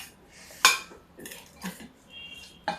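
A metal spoon clinks against a bowl while mixing a mustard seed spice blend for a chili pickle, with a few sharp close clinks and softer scraping strokes between them.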